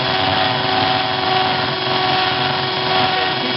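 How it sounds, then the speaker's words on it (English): Power drill boring through a glass bottle, a loud continuous whirring grind with a steady hum and no pauses, holding the same pitch throughout with nothing else audible over it. "when you go through, you don't jam the drill chuck into the bottom of the bottle and thereby break it."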